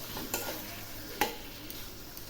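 Chhana (250 g of fresh milk cottage cheese) is sautéed with spices in a pan, giving a steady low sizzle with a couple of sharper scrapes of the spoon, fairly quiet, with no voices.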